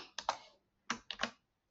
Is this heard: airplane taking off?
no